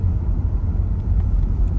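A car drives along a road in Guernsey toward the west coast, its engine and tyres making a steady low rumble heard from inside with no talk.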